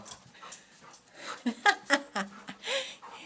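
A dog pants and whimpers up close in short, uneven bursts of breathy yips and whines.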